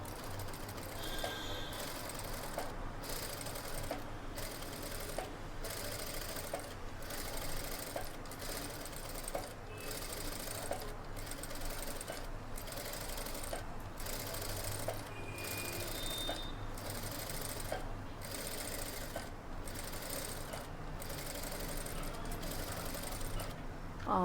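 An electric sewing machine stitching steadily during a beginner tailoring class, a continuous mechanical whirr with a fast needle rhythm, close and fairly quiet, running without pause and with no speech over it.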